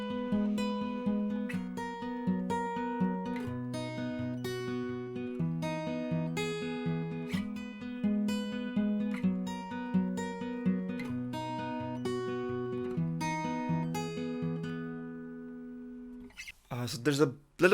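Guitar playing the chorus of a song, a steady picked and strummed pattern with a low repeating bass line and bright chord hits, close and moderately loud, heard alone until a brief noise at the end.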